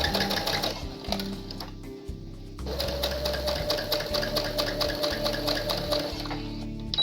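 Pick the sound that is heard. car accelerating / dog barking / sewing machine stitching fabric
sewing machine stitching fabric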